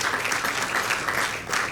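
Guests at a philanthropy awards gala applaud in a steady, close wash of clapping that holds evenly across the short moment.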